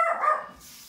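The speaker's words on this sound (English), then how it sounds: "Excuse my dogs." Dog barking indoors, a single short bark close by that quickly fades, with no talk.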